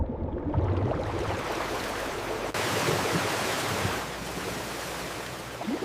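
Water rushes through a flume washing strawberries in a jam factory, a loud continuous churning wash of flowing water with steady surging texture and no voices.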